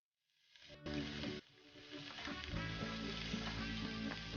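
Blanched vegetables stir-frying in a pan over high flame, a steady loud sizzle and hiss with clattering stirring that swells after a brief pause and keeps going.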